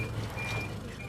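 A recycling truck backs up with its reversing alarm beeping steadily, a thin repeating tone over a low idling engine rumble at moderate distance.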